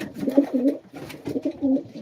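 Jaworski Michalak pigeon cooing up close, two rounded, throaty coo phrases in a row, each a soft rolling burble with a brief pause between.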